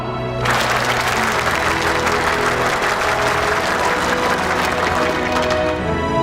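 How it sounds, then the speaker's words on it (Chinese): Sustained audience applause at a military company gathering, steady and loud clapping filling the whole stretch from start to finish. "鼓掌！"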